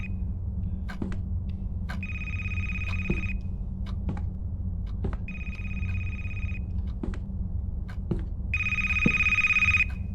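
A telephone rings in a haunted-library video game, sounding three separate bursts of trilling bell tones over a low ambient hum, with faint clicks between rings and no one talking.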